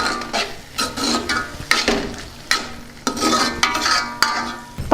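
A spoon stirring spinach tomato curry in a pan, scraping and rubbing in repeated strokes of irregular rhythm, close and fairly loud with a faint sizzle underneath.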